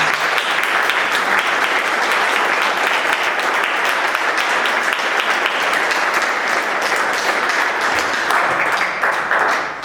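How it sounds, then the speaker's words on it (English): A neighborhood association meeting audience applauds its candidates, loud, sustained clapping from many hands that carries steadily throughout and tapers slightly at the end. "Get a round of applause for our candidates."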